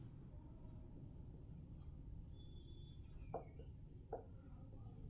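Marker or chalk strokes on a board during a biology lecture, quiet scratching strokes with a couple of brief louder taps, over a steady low room hum and no talking.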